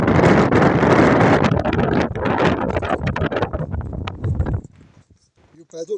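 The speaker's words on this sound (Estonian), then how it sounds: "Jube tuul on" Strong wind on Halti fell buffets the microphone in loud, rough gusts for several seconds, then drops away abruptly into near quiet with faint sounds.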